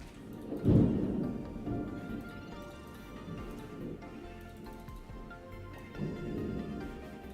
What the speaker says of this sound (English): There's thunder where I'm at.